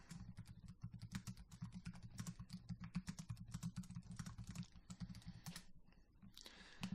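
Steady, rapid typing on a computer keyboard while building visualizations in Tableau, dense clicking keystrokes running continuously, close and clear, with a low hum underneath.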